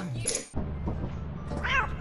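A cat in the modded video game Lethal Company gives a short meow near the end, under a steady game hum and a voice talking.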